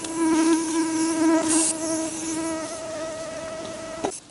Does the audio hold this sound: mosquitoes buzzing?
yes